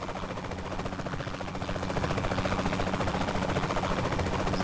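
Helicopter in the video game Saints Row The Third, a close, loud, continuous rotor chop with a rhythmic thumping pulse that grows slightly heavier midway, alone without talk.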